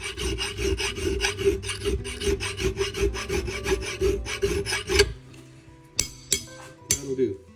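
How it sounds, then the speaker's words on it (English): A metal file rasps rhythmically across an axe blade to sharpen it. The quick, steady back-and-forth strokes are close and fairly loud, then they stop and are followed by a few sparse clinks and scrapes. "Much more easy to put your effort into sharpening the axe than trying to cut something with a dull axe."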